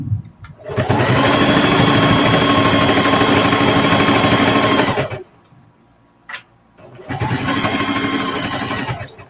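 Close and loud, a sewing machine runs steadily while stitching a quilted zipper pouch, pauses briefly with a small click, then starts up again for another even run.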